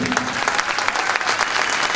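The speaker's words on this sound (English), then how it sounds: "we'd love to give you a round of applause as well" An audience at a marching band event applauds veterans with a full, continuous round of clapping from a large crowd, loud and steady for the whole stretch.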